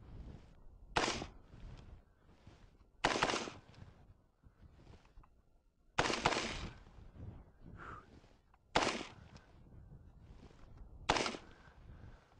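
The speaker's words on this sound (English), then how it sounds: "I know at this distance, I'm going to shoot a little bit low, so I'm going to aim at the top of the target." AR-15 rifle fired at a target at close range: five sharp, loud reports spaced a couple of seconds apart, each with a brief decay, with quiet talk and movement in between.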